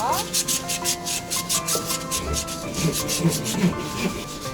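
Sandpaper rubs by hand along the edges of a wooden mallet at a craft workshop, giving a loud, close, rapid rhythmic scratching repeated in quick strokes while children's voices chatter underneath.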